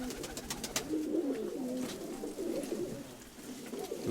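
Pigeons brought in for temporary keeping coo softly and repeatedly at close range, low throaty calls rolling one after another with light rustling.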